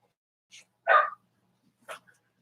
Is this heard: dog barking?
yes